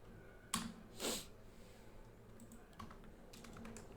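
Keys on a computer keyboard are pressed while a command is typed during React coding: two distinct clacks early on, then a scatter of lighter, quicker taps over a quiet room hum, with no talking.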